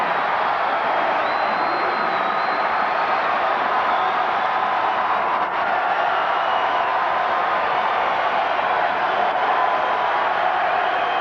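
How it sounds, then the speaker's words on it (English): A basketball arena crowd roars and cheers in a steady, dense wash of noise from thousands of fans, loud and sustained throughout with no distinct voices standing out. "Listening to that crowd, I guess it's new."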